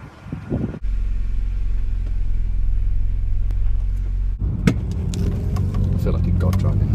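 A Ford Escort Cosworth driving, its engine a steady low rumble heard from inside the car, with a brief voice and some thumps at the start and rattling cabin noises toward the end.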